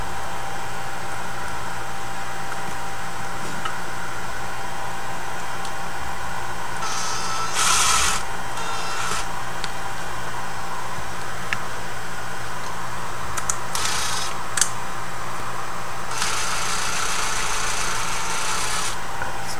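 Screws are driven into a wooden board, heard as several short, buzzing bursts of a driver spinning, spaced apart and close by, with a steady low hum between them and no talking.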